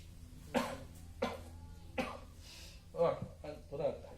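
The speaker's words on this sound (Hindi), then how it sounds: "थोड़ा खांसी सर्दी डिस्टर्ब भी दे रहा है।" A man with a cold coughs five times in short separate bursts, fairly close, at a moderate level against a quiet room background.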